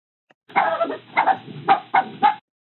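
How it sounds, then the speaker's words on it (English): A dog's barks, unnaturally quick and high, come in a rapid run of five yaps, close and fairly loud against silence. "we can make the puppy bark very, very fast"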